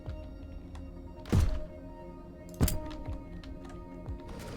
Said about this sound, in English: Let's throw the shotgun next.